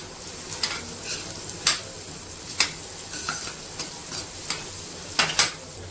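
Onions frying in a pan for a prawn and tamarind-leaf curry, a steady low sizzle punctuated by scattered clinks and scrapes of a stirring spoon.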